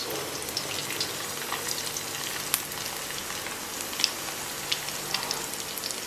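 Garlic with cracked coriander seed and pounded candle nuts frying in a pan for a Padang-style curry paste, a steady soft sizzle and crackle with a few sharper pops, close and alone with no talk.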